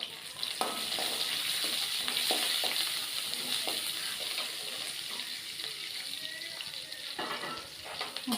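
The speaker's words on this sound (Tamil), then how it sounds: "கடுகு போட்டு பெரிய வெங்காயம் ஒன்று போட்டுக்கலாம். நல்லா வதக்கிக்கோங்க, பொன்னிறமாக ஆகட்டும்." Sliced big onion and mustard seeds sautéing in oil in a pan for beetroot poriyal, a steady close crackling sizzle throughout with intermittent scraping and stirring clatter from a spoon.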